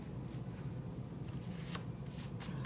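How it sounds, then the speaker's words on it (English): Tarot cards shuffled by hand in a quiet room, a steady soft riffle and flutter running throughout with a few sharper snaps of cards slapping together. "Terrible shuffling, guys."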